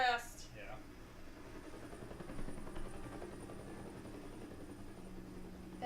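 A helicopter in Batman: The Telltale Series makes a low, continuous rotor drone that stays fairly quiet and steady throughout, with a brief sharper sound at the very start.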